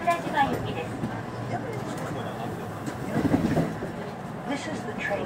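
A JR Yumesaki Line electric train runs between Nishikujo and Sakurajima, its steady rumble and wheel noise carrying under a recorded onboard announcement voice.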